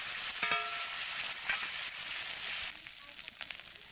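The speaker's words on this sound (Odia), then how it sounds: "ମୁଁ ଶୁଖୁଆ ଭାଜିଲି।" Dried fish frying in hot oil, a steady bright sizzle with a few clinks from stirring, close up, fading down suddenly near the end.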